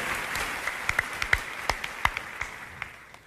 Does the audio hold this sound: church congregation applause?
yes